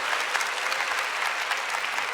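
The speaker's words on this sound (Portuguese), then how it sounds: "Então aplaude o seu irmão que não quer." A church congregation applauding during a Catholic Mass, many hands clapping in a continuous, lively burst that holds steady with no talking over it.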